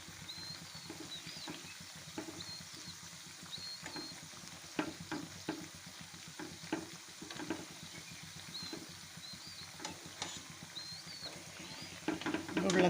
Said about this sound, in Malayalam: നമുക്കങ്ങോട്ട് ലോ ടു മീഡിയം ഫ്ലെയിമിലിട്ട് തന്നെ വേണം ഇതൊന്ന് വറുത്തെടുക്കാനായിട്ട്.